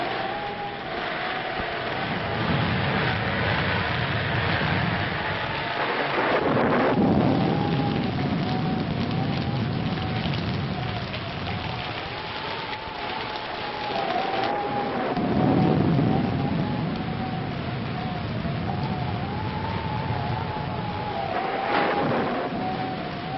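Steady heavy rain pours throughout a thunderstorm, with deep rolls of thunder swelling several times and fading, close and loud, with no talking.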